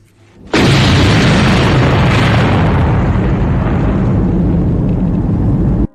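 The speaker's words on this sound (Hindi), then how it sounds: "एक विशाल धमाके के साथ लोप नूर के ऊपर आग का गोला और मशरूम बादल उठा" A huge nuclear test blast at Lop Nur erupts suddenly into a massive, roaring boom that holds as a dense, loud rumble for several seconds before cutting off abruptly.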